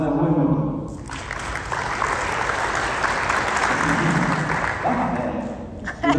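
Audience applause breaks out after a short spoken line, a dense sustained clapping that fills the room for about five seconds before fading as a voice returns.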